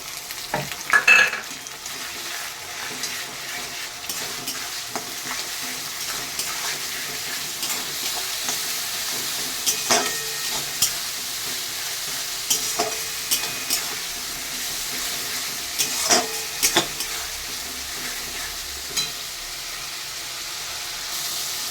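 Onion paste is stirred and fried in a hot pan of oil for a homemade pulao and mutton dish, giving a steady sizzle with repeated scraping strokes from the spoon throughout.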